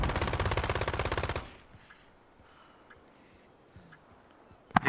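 Rapid automatic gunfire rattles loud and close in a search and destroy video game match, cutting off abruptly after about a second and a half, followed by quieter scattered pops and clicks and one sharp late shot.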